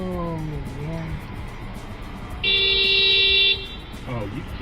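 A large vehicle blasts its horn in one long, loud, steady honk on a narrow bridge, close by, while people talk and exclaim before and after it.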